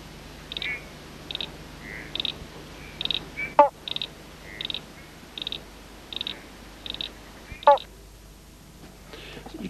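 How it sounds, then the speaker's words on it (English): Pobblebonk frog croaks play back from a computer, a regular series of short hollow 'bonk' calls about every second, moderately loud over a low room hum, with a couple of sharper clicks between them. "if you click on one of these pictures, you can hear the frog croak"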